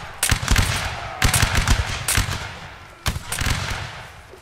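Musket volleys ring out in a Napoleonic Wars line battle game, loud ragged bursts of massed gunfire in several rolling waves with short gaps between them.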